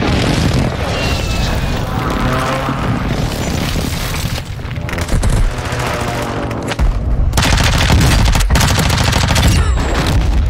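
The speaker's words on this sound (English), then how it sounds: "Hostile airstrike incoming." Airstrike explosions in Warzone 2 pound continuously, loud booms mixed with rattling gunfire bursts over about ten seconds, with a brief lull midway before the blasts surge again.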